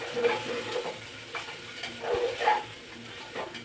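Masala spices (Maggi masala, onion masala and mutton masala) being stirred in a hot pan for masala rice, giving a soft sizzle with a few scraping strokes of the spoon at a close, moderate level.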